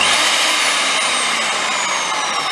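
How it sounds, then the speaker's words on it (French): A Peugeot 600W electric drill with a faulty power cord runs at speed, a loud steady whine with a high motor tone that slowly sinks in pitch, close and continuous. "un problème sur une perceuse Peugeot. Dans une position, elle fonctionne."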